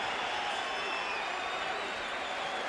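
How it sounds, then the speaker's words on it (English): A boxing arena crowd roars in a steady, loud wash of cheering and applause during a Baldomir vs. Gatti fight, with faint whoops riding on top. "The crowd loves the action"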